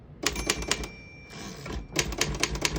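Typing on a 1940 Royal KMM vintage desktop typewriter, a close run of sharp mechanical key strikes, a brief pause with a soft whirr of the carriage, then another quick burst of clacking.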